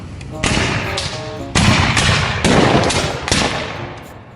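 Civil War muskets fire by file at a living-history demonstration: four loud, sharp reports go off roughly one second apart, each leaving a rolling echo that overlaps the next, with no voices between the shots.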